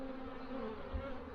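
Honey bees buzz around an open hive while a nuc is being installed, a dense, continuous droning hum close by with no talk.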